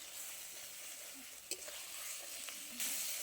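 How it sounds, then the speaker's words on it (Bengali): Ground mustard, chilli and cumin paste with turmeric sizzle quietly in a pan for a fish curry, a soft continuous hiss with occasional stirring scrapes. "সমস্ত মশলা দিয়ে খুব ভালো করে কষিয়ে নেব।"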